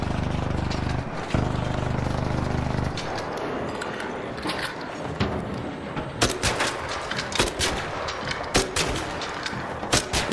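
Rapid video game gunfire, dense at first and then breaking into a series of separate sharp shots, steady and fairly loud with no voices over it.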